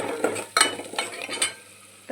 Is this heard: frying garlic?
yes